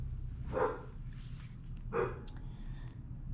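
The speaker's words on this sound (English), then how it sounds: "I don't even know why he's barking." A dog barks indoors with two separate sharp barks about a second and a half apart over a quiet room background, and nobody speaks.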